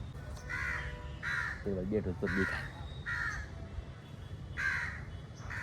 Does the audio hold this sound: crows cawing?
yes